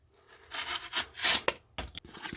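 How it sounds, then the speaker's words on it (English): A Kizer Chili Pepper knife slices through cardboard in a few quick rasping strokes, close and crisp, with short scraping bursts and brief pauses between cuts. "I have absolutely no problems cutting into this cardboard"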